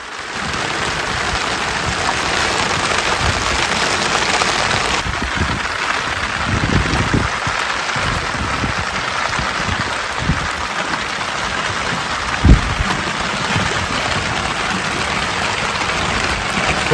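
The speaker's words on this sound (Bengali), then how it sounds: "হঠাৎই চারিদিকে অন্ধকার করে এসে যেন ঝড় বৃষ্টি শুরু হলো।" Heavy rain pours steadily in a thunderstorm at sea while people are out fishing for lobster from a boat, with a dense, loud hiss of rain and a few brief thumps and splashes.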